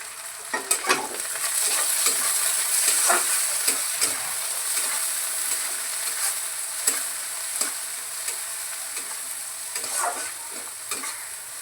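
Spring onion and garlic greens fry in a pan with a steady, close sizzle and hiss, broken by repeated scraping stirs and clicks of the spatula throughout.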